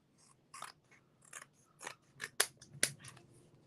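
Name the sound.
corner chomper punch rounding paper corners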